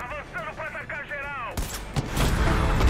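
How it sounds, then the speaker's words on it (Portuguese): Far Cry gameplay with someone talking over it, then an abrupt burst of loud gunfire erupts midway, sharp repeated shots and booms continuing to the end. "Que tiro foi esse, capitão?"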